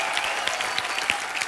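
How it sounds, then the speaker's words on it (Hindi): Studio audience applause on a Bollywood comedy talk show, a dense, steady wash of clapping from many hands that carries through the whole moment with no break. "बहुत ज्यादा तालियां इनके लिए।"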